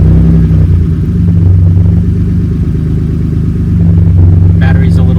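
A Maserati Biturbo engine idles with a steady deep rumble, loud and close, held in neutral with a weak battery; the sound stays continuous throughout with a brief rise near the end.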